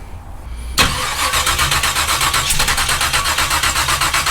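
A big block Chevy Camaro cranks and fires up loudly nearby, then settles into a rough, loping idle with a strong rhythmic pulse.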